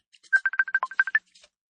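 Telephone in a radio drama giving a quick electronic ring, a rapid burst of about ten beeping pulses, clear and fairly loud, then a faint short trill, with no talking.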